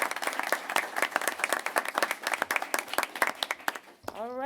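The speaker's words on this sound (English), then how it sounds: "Rohan is not here, but we will still clap for Rohan." An audience at a school board of education meeting claps for a student, a brisk patter of hands that runs steadily before breaking off near the end, where a brief voice is heard.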